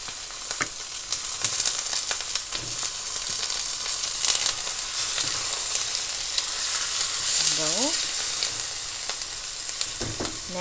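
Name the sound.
chicken frying in a pan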